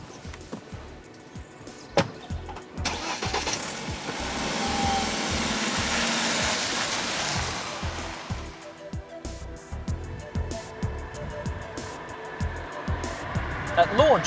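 A BMW 3 Series Touring car being driven on roads in the south of France, with a steady road and engine rush that swells in the middle and clicks and thumps throughout, while a voice speaks over it.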